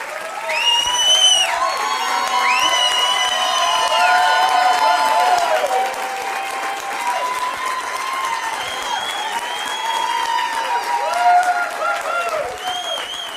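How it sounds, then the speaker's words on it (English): Applause from a seminar audience continues for over ten seconds as a broad, sustained wash of clapping, layered with cheering and voices throughout. "All the claps and applause."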